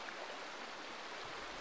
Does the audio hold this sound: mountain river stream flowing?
yes